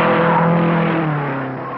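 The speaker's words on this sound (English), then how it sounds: "The leaders roared through the first lap at better than 133 miles an hour." Offset-engine race cars at the 1955 Indianapolis Speedway roar past at over 133 mph, a loud sustained engine drone with shifting harmonic whine that fades slightly as the cars pull away.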